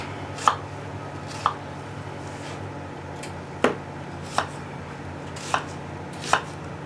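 A knife chops a red onion into wedges on a cutting board, six separate crisp thuds spaced irregularly over several seconds, close and clear against quiet room tone, with no talking.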